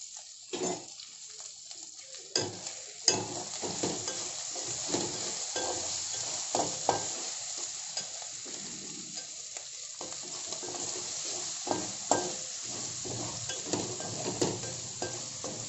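Tomatoes frying in a pan for a capsicum masala curry, a steady close sizzle with repeated scraping stirs and clinks of the spoon throughout.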